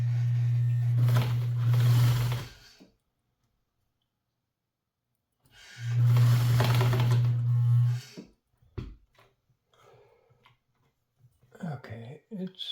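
A Japanese class 15 sewing machine stitches regular fabric in two loud, close bursts of rapid whirring with a pause between, followed by quiet clicks and brief talk.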